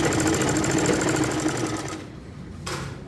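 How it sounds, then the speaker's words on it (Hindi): A sewing machine runs steadily while stitching a suit kameez, its rapid needle chatter continuous for about two seconds before slowing and briefly starting again; no voices. "सिलाई चला लेंगे।"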